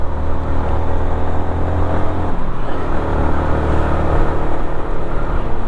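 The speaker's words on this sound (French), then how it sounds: "Un monocylindre bien équilibré qui vibre pas même quand on monte haut dans le régime" Yamaha MT-125 with a single-cylinder engine, running steadily and loudly, with a dense continuous drone and a slight swell in the middle, heard alone.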